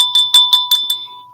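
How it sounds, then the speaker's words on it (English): A small hand bell rings in six quick bright strikes with a steady high tone, loud and close, then fades as a voice begins at the very end. "let me ring my bell"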